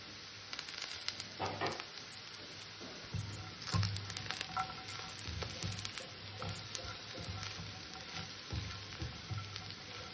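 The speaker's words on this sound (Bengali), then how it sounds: "আজ আমি বিট আর গাজর ভাজা করলাম।" Chunks of beetroot with potato or carrot fry in a pan of hot oil, giving a constant quiet sizzle with occasional stirring scrapes and a low background hum.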